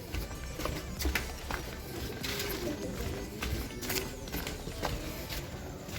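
Racing pigeons coo at a loading area before a summer race. Soft, low coos repeat under a steady outdoor background with scattered light clicks and knocks, and no voices are heard.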